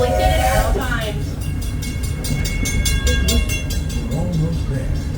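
Big Thunder Mountain runaway mine train ride at a theme park: rumbling rail cars with a rapid run of bright whistle-like chimes, a steady rolling clatter beneath, and voices heard over the din.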